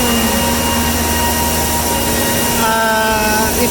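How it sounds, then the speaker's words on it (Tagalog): Styrofoam plant mixer machine running steadily, a loud continuous industrial whine and roar with constant tonal hum, a second set of tones joining toward the end. "ito yung mixer."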